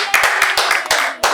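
Five or six separate, sharp handclaps ring out close by in a small bedroom interview setting, spaced unevenly and sounding like one or two people clapping rather than a crowd.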